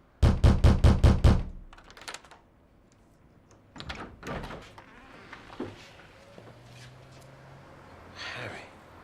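Fist banging on a door, a rapid burst of about six loud heavy thumps at the start, then scattered softer knocks and thuds with quiet room sound between.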